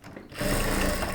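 A sewing machine stitches a churidar top, its motor starting up after a quiet moment and then running fast and loud in a steady whir.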